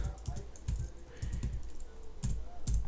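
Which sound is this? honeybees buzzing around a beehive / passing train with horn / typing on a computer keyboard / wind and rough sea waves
typing on a computer keyboard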